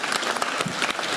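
Dense applause from an audience at a youth seminar, a steady wash of many hands clapping together at even loudness, with no voices over it.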